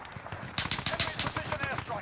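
Rapid gunfire in a Search and Destroy match of the shooter Modern Warfare, a fast string of close, loud shots with a faint voice partly underneath.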